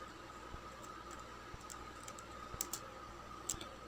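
Steady typing on a computer keyboard while working in SPSS statistics software, a quiet run of light key taps with a few sharper strokes near the end over a constant background hum.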